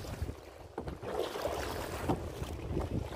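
Boat ride on the sea at Kotna beach in Gujarat, with a close, steady rush of wind and water against the hull and a few soft splashes and knocks, fairly faint.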